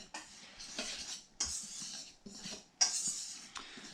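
Whisk stirring flour, baking soda and salt in a bowl, with quick clinks and scrapes against the bowl in short bursts, close and moderately loud.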